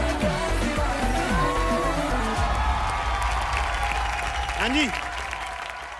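An audience at an Indian TV entertainment show applauds loudly and steadily throughout, a dense wash of clapping, with a host's voice briefly speaking over it.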